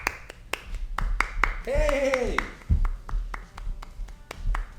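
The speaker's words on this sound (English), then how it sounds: "help me give a round of applause to my boyfriend" A small round of hand clapping for a boyfriend at home, a handful of sharp, close claps spaced out in a loose rhythm, with a brief vocal exclamation in the middle.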